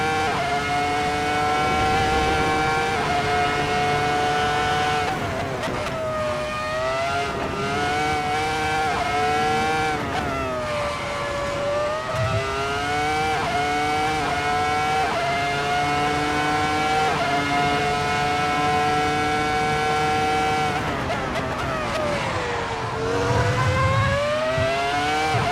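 A race car laps a track with its engine held at high revs, sweeping up and down in pitch through gear changes and braking, loud and close throughout with no pauses and no talking.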